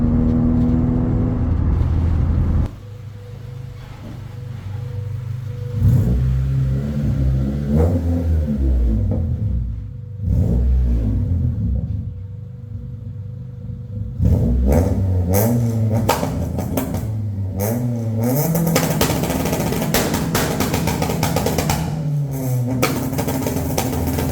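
A Honda Civic EK3 with a freshly swapped transmission and clutch drives on a street, its engine revving up and falling back repeatedly through gear changes, loud and close from inside the car.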